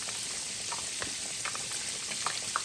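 Flour-dusted pork chops fry in hot grease with a continuous bright sizzle and small crackling pops, steady and close.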